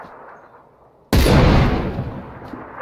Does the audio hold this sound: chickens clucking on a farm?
no